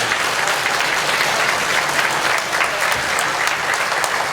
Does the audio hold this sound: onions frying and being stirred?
no